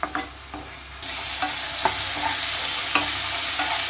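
Fish fries in a pan, a steady close sizzle that swells after the first second, punctuated by several light clinks and scrapes of stirring, with no voices.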